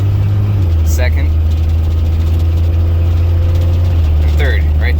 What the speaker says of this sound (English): So the 3-speed automatic shifts very smoothly